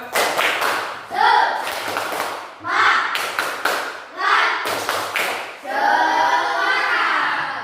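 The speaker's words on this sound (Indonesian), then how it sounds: "Tepuk semangat dulu, tepuk semangat." A school IT class doing a rhythmic spirit clap, bursts of clapping in repeated patterned groups separated by short pauses, close and fairly loud, with voices chanting along between the claps.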